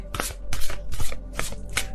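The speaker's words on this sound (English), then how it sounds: "This deck is so hard to shuffle, but I love it so much." Tarot card deck being shuffled by hand, with five quick, crisp riffling bursts at an even rhythm, close and clear with no talking.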